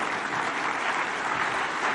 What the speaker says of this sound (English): Another round of applause for His Excellency, please.